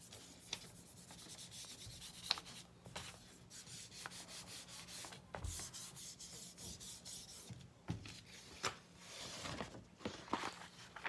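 Paper rubbed by hand over a gelli plate to lift a final ghost print, a soft continuous scratchy rubbing with irregular strokes, close and fairly quiet, no talking.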